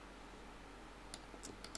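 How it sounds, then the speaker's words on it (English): A few light, quick clicks of computer keyboard keys come after a quiet pause, sounding close but soft, with no talking. "press V on the keyboard"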